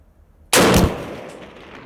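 A single sharp gunshot from a PSA AK-P 7.62x39 pistol with a 10.5-inch barrel, fired at a steel target at a range, loud and close, with a short decaying tail.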